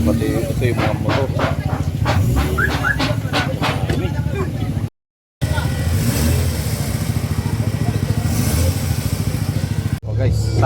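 Motorcycles rev loudly at a car show-and-rev event, their engines rising and falling in close, continuous bursts while people talk nearby.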